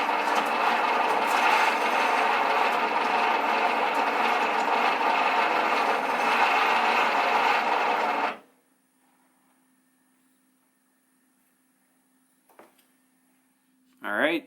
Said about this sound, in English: allow you to pull the cable out easily without using the motor